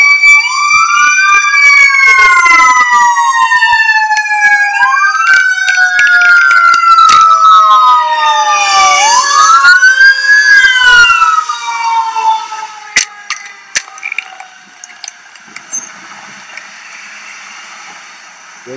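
A rescue truck's siren wails loudly and close in repeated rising and falling sweeps, with a horn-like blare in the middle, then fades into street noise and scattered clatter.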